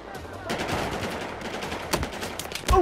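SCAR-H rifle fire in a shooter video game: a series of sharp gunshot bursts, some single cracks and some rapid strings, at moderate loudness with game noise between, ending in a louder close burst.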